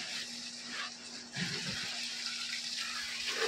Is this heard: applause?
no